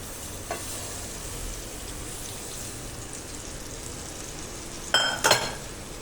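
Dal tipped into a sizzling pot makes a steady soft crackle, broken near the end by two quick clattering bursts as it goes in and is stirred.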